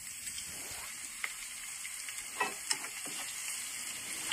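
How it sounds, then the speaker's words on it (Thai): Garlic sizzles in hot oil over a slow home stove, with a steady faint crackle and occasional soft pops and clinks of stirring, no voices. "รอให้น้ำมันเดือดอีกนิดนึงนะคะให้เสียงกระเทียมมันฉูฉาสักหน่อยหนึ่งนะคะ"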